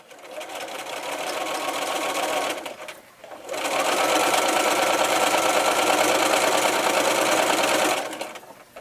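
A sewing machine running a straight stitch with a twin needle, a loud steady mechanical hum of rapid stitching in two long runs separated by a brief pause.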